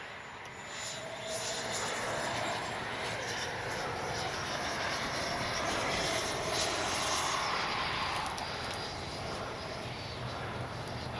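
FMS Avanti S 70mm electric ducted-fan RC jet flying in gusty wind, a steady broadband whoosh rising and falling as it passes, fairly distant and continuous throughout.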